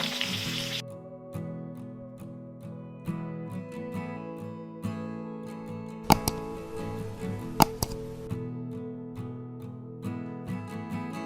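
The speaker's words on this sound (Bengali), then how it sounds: "ওই তেলেই মাছগুলি ভাজার জন্য দিয়ে দিয়েছি" Small tangra fish frying in oil make a soft, continuous crackling sizzle beneath a steady tonal hum, with a few sharp clicks and ticks near the middle; no one speaks.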